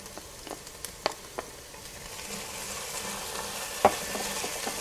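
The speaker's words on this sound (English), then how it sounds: "What I'm going to do now is add 1 tablespoon of some minced garlic." Onions and minced garlic sizzling in a soup pot for cheddar broccoli potato soup, a steady soft frying hiss with a few light utensil knocks, no talk.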